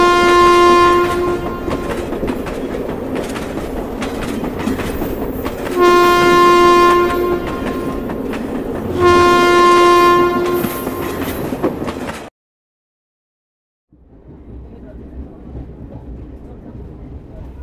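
A passenger train at a station: loud rolling rumble with three long, tonal horn blasts at regular intervals, then a sudden cut to a quieter rail-side hum.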